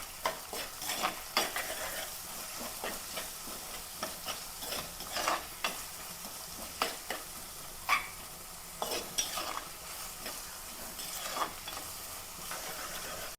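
Onion, green chilli, ginger and garlic fry in a pan, a steady soft sizzle broken by repeated scraping stirs of a spoon against the metal, close and moderately loud with no talk.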